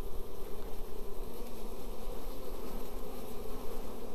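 Honey bees swarm over hive frames as the frames are shaken off, a dense continuous buzzing drone filling the air close by, pulsing slightly but steady throughout.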